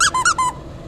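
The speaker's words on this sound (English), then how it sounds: "have my squeaky toy right here" A squeaky toy squeezed four times in quick succession, each squeak short, bright and loud, close by with no talk over it, then a quiet pause.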